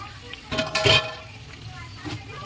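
Chicken chhaton (chicken scraps) in a cooking pan is stirred with a few brief scraping, sizzling strokes, one short burst stronger than the rest, close and fairly quiet.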